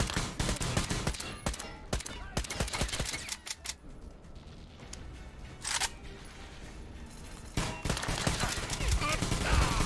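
Gunfire in Metro Exodus crackles in sharp bursts and single cracks, loud and close, with rapid clusters early, a lull in the middle, then renewed shots toward the end.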